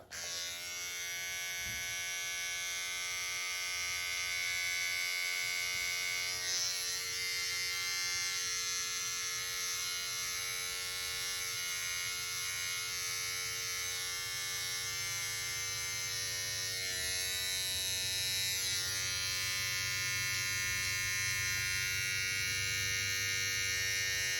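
An electric trimmer buzzes steadily and loudly for the whole stretch while trimming a mustache along the lip line, its pitch wavering slightly as it moves through the hair, with no talking.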